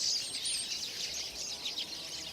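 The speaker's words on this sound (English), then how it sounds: "Birds chirping together can create quite a racket, like these chirping in a spruce tree." Several small birds chirp together in a spruce tree, a faint continuous twittering chatter with overlapping high calls and no voices.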